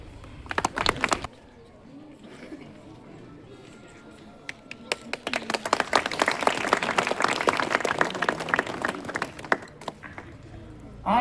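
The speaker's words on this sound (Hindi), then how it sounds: "आपकी ताली में गड़गड़ाहट रुकनी नहीं चाहिए।" A school audience claps and cheers at an assembly stage event, with broadband clapping swelling loudly from about five seconds and holding to the end, after a brief burst at the start.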